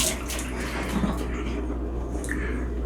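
Steady running water splashes while washing up during blackberry wine making, a continuous close wash with faint handling knocks.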